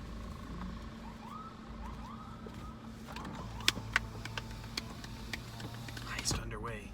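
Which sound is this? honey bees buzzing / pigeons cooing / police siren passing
police siren passing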